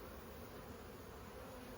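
Honeybees around an opened hive during colony work, some carrying goldenrod and aster pollen, give off a steady, even buzz close by, with no speech over it.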